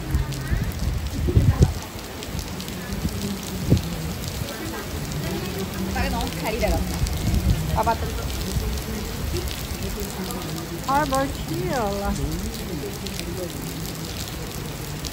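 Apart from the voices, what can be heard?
rain falling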